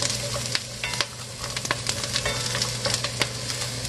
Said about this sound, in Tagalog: ginis ako lang yung bawang tapos isusunod ko lang tong spring onion